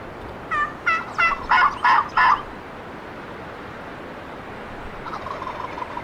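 A turkey in a turkey hunting video game gobbles in a rapid burst of about six loud, rattling calls, followed by a fainter, more distant gobble near the end.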